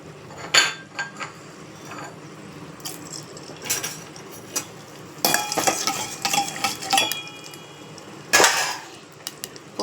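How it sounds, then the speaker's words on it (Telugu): Tempering spices drop into hot oil in a pot for tomato rasam, bringing bursts of sizzling between quieter stretches, along with spoon clinks and pot knocks. "ఆయిల్లోకి పోపు ఐటమ్స్ని యాడ్ చేసుకుంటున్నాను"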